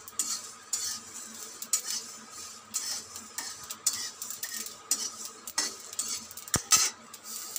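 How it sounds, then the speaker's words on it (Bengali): Whole spices for a sweet-sour-spicy mango pickle fry in a pan with a steady crackling sizzle, near and moderately loud, broken by repeated scrapes and clinks of a spoon stirring against the metal pan; no talking. "দেখো সব পুরপুর পুরপুর করে ভাজা হচ্ছে"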